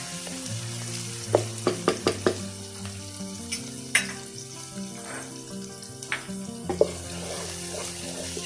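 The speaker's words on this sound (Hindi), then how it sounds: "इन सब चीज़ों को मैं अच्छी तरह भून लूँगी।" Ginger and garlic fry in a pan for a yogurt chicken dish, giving a steady sizzle with several sharp clicks of a spoon against the pan as it is stirred. Kitchen hum runs beneath, and no one speaks.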